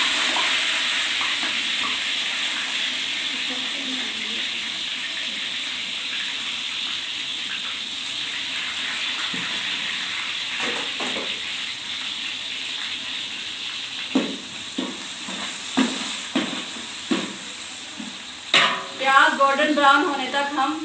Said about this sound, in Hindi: 1 किलो हमने तेल लिया और अब हम इसमें प्याज शामिल करेंगे।